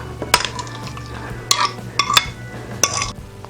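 A spoon stirs a mashed mango mixture in a bowl for mango ice candy, giving several sharp clinks against the bowl at irregular intervals over a low steady background hum, close by and moderately loud.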